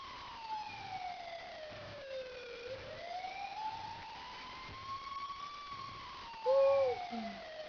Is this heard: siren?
yes